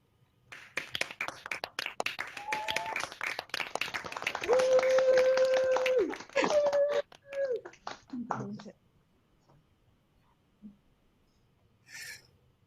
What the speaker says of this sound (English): cheer and clap for each other.